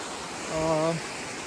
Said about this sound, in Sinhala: අපිට යන පාරේ මේ වතුර පාරක් හම්බෙනවා.